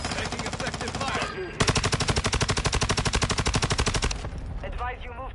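Sustained rapid machine-gun fire in a Call of Duty match, a dense burst of evenly spaced shots lasting several seconds before cutting off, with scattered other game sounds around it.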